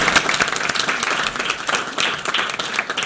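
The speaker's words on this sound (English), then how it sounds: "You do deserve a round of applause." Applause from the room at a UNU-CPR panel on artificial intelligence and prevention, a lively burst of many hands clapping with audible individual claps, fairly close and loud, continuing throughout without talk.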